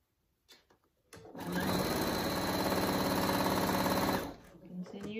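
A sewing machine runs a continuous, loud mechanical whir for about three seconds while stitching a seam on fabric for a kangaroo pouch hanging bag, with brief handling clicks before and after.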